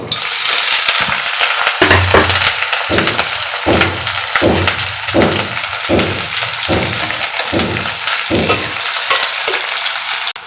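Onion and green chilies fry in oil in a kadai, giving a loud, continuous sizzle close up, broken by a regular series of scraping stirs about once a second.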